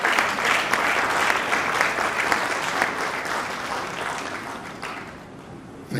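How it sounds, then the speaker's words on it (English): An audience at an architects forum in Lagos gives a speaker sustained applause, dense and steady before gradually thinning toward the end. "Please put your hands together and give a round of applause for Mr. Yomi Badejo Okusanya."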